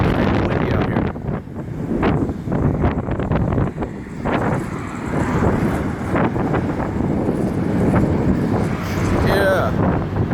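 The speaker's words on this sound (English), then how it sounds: "it is extremely windy out here" Strong outdoor wind buffets the microphone throughout, a continuous loud low rumble with gusting surges, while a voice is faintly present underneath.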